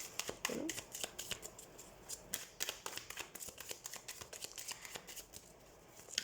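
A deck of tarot cards being shuffled close up, with rapid crisp riffling snaps and flicks running steadily throughout, sometimes in quick bursts.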